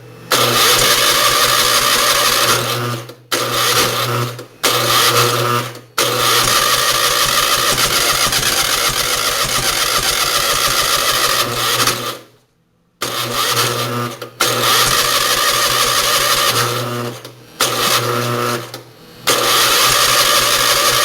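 An Onan generator engine cranks repeatedly without starting, loud droning starter bursts that run for several seconds and cut out into brief silences before cranking resumes.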